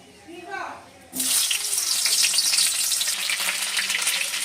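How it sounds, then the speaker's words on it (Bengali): Young jackfruit hitting hot mustard oil, a quiet moment with a faint voice-like murmur, then a sudden loud, bright sizzle that holds steady and close for the rest of the clip. "এবার আমি এখানে যে তেল গরম হয়ে গেছে আর এখানে আমি এঁচড়টা একটু ভেজে নেবো হালকা করে"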